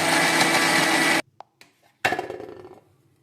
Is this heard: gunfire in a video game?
no